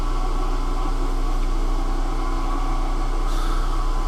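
A home-shop lathe cuts its chuck jaws with a steady, loud mechanical hum and drone, a continuous machine whir that does not let up, with a faint brief rise near the end.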